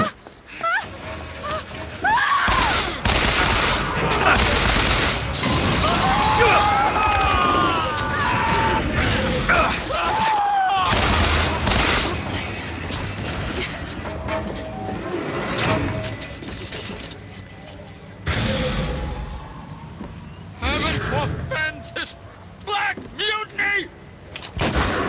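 Bursts of gunfire and heavy impacts from the video game Bioshock Infinite come thick and loud, mixed with shouting in-game voices and chaotic combat noise.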